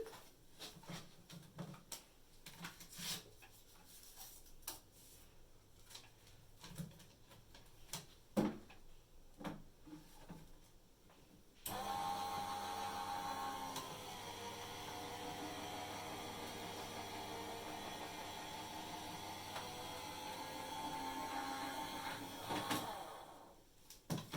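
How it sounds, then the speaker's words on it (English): An electric embossing machine draws a sheet of coloured card through an embossing folder, a steady continuous mechanical hum that starts abruptly midway and runs evenly for about twelve seconds before cutting off, following quieter handling clicks and taps. "you've got a handheld machine that you have to crank the handle"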